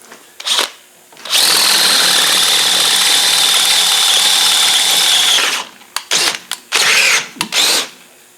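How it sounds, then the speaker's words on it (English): A power drill with a sharp 25/64 bit bores into metal while fitting a Rover differential, a loud steady whining run of about four seconds followed by several short bursts of drilling. "God, that drill's sharp."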